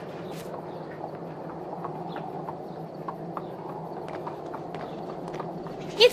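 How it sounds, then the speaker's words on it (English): Hooves of a horse in A Vampyre Story, a hobbled horse with a boot on its leg, clopping in a faint, irregular stream of steps over a steady low background hum. "It's a horse. Of course."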